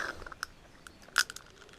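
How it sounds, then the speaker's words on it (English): Brittle plastic crankcase ventilation part on a BMW E46 325Ti M54 engine crunching as it is pried out, a few small close cracks and snaps, the loudest near the end. "plastic shouldn't really crunch"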